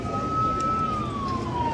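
Near an accident site at Gatthaghar, Bhaktapur, an ambulance siren wails as a single long, steady tone that slowly falls in pitch as the vehicle passes amid street crowd noise.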